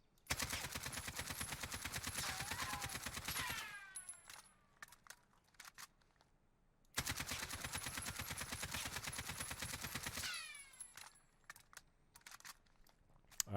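AK-47 with a long RPK barrel firing in Warzone: two long sustained full-auto bursts, each a dense rapid rattle lasting about four seconds, followed by ringing echo tails and faint clicks.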